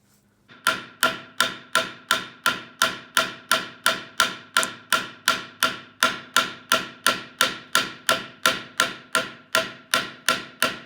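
Sharp hammer blows strike steadily, about two or three per second, driving out pins on a knife handle while making a Navy Mk1 combat knife; close, loud and unaccompanied by talk.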